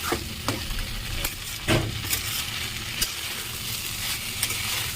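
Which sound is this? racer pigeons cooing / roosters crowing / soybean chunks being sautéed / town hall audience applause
soybean chunks being sautéed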